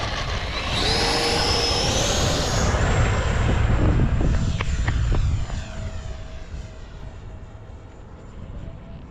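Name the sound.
FMS F-15 Eagle RC model jet flying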